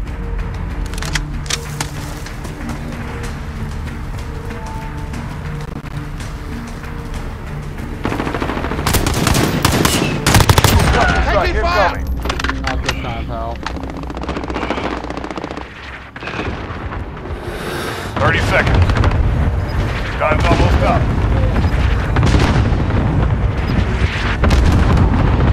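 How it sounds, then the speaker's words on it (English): Sustained gunfire and explosions from the Modern Warfare video game, with dense rapid machine-gun bursts and heavy booming blasts rolling continuously, loud and without spoken voices. "They're taking fire!"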